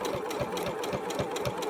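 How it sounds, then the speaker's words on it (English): A sewing machine stitches rapidly while basting in a zipper, a close, even mechanical chatter of quick needle strokes running without pause and with no talking. "So I'm going to start sewing."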